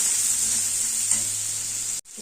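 Onions with a little turmeric sizzle steadily in a hot pan with a bright, even hiss and a faint hum beneath, cutting off abruptly before resuming briefly.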